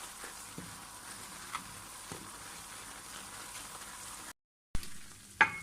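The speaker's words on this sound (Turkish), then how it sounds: "Gördüğünüz gibi un yağın içerisinde sanki sıvı bir maddeymiş gibi böyle rahatça karışıyor." Flour stirs and fries in oil in a pot for Kars umaç halva, a soft steady sizzle with faint scraping strokes of the spoon, a brief cutout, then a sharper clink near the end.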